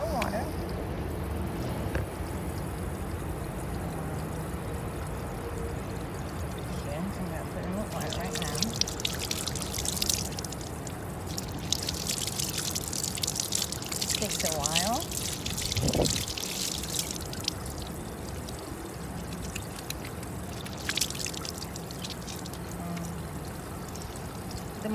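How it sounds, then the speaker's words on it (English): Water runs and splashes steadily from a tap onto soap, with occasional clatter and hiss of the stream changing over the flow. "Okay, I'm gonna turn on the water."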